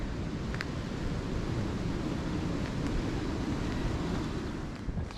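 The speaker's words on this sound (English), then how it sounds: "Even though the sun's out, that wind is not pleasant." Strong wind buffets outdoors beside a river where boats are moored in March, a steady loud roar of gusts rumbling across the microphone without pause.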